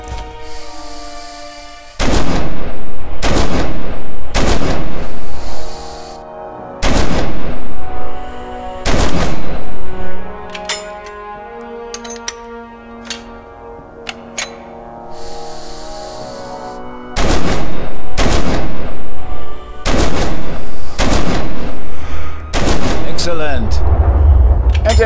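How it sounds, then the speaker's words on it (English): An anti-tank rifle fires at a tank downrange in the video game Red Orchestra 2. Heavy, loud shots repeat at intervals, each leaving a ringing tail over a low, steady hum. "Deploy the weapon in front of you. Open fire on the tank downrange."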